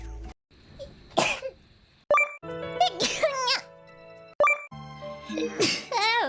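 Several loud, sharp sneezes come one after another with short gaps between them, close to the microphone, mixed with brief vocal sounds and a faint chime.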